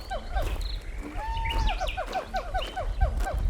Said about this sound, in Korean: 하이에나들이었다.